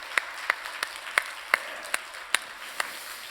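A congregation applauds during a Sunday church service, the sound carried as a steady wash of clapping with regular sharper claps at intervals of roughly a third of a second. It is faint and distant, and no talk can be heard.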